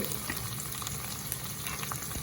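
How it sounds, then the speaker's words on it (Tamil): Paneer pieces fry in hot oil, giving a continuous dense sizzle with crackling pops, steady and close throughout. "இப்போ பார்த்தீங்கன்னா சொன்னால் எண்ணெய் கொதிச்சிருச்சு இந்த பன்னீரை வந்து எல்லாத்தையும் போடுவோம்"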